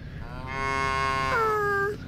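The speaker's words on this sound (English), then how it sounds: "There's a bunch of cows on the field." A cow moos in a field in the video game Little Misfortune, one long, close, tonal low that swells, then bends downward before it fades, with a quiet background and no talk.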